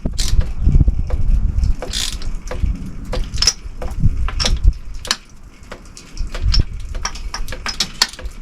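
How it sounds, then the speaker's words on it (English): A hand ratchet clicks in irregular bursts while tightening spark plugs on a Mercury outboard motor, with close metallic ticking, short pauses and occasional knocks of tool on engine. "I'm going to go ahead and tighten them down with my ratchet."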